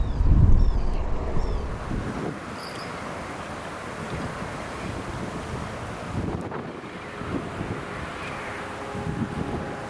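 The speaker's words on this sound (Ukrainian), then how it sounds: "Вітер щось такий дує, неприємний взагалі. Чуєте як? Задуває" Wind blows beside the Dniester River on a fishing trip, giving a steady, rough rumble of gusts buffeting the microphone, with a stronger burst at the start and no talking.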